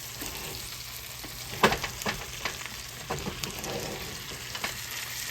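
Trout sautéing in a hot pan for a classic trout meunière, a steady close sizzle and crackle of frying fish with sharper pops and spatters scattered throughout as the fillets are shifted around the pan.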